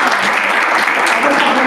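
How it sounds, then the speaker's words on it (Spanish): Loud, dense audience applause at an event inauguration, a continuous close wash of many hands clapping throughout. "Un aplauso."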